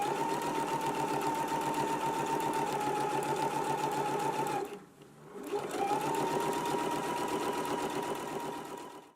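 A sewing machine understitches the fly of a trouser, running steadily and loudly with a dense rapid whir, pausing briefly midway, then starting again and continuing to the end.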